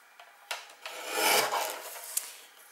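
Scissors or a blade cutting through paper to make a gift box lid, a close, soft rasping slice with a couple of small snips, quiet and without talk.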